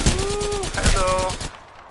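Rapid automatic gunfire from Apex Legends crackles in close, loud bursts for about a second and a half, then cuts off abruptly.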